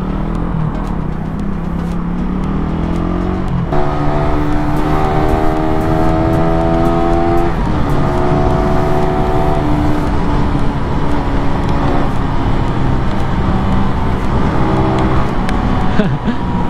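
Honda Raider 150 motorcycle engine fitted with a new Uma Racing spark plug, revving loudly and continuously up close, with rising and falling tones as the throttle changes and a voice talking over it.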